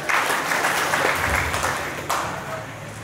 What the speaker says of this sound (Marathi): अनिल कदम सर जोरदार टाळ्या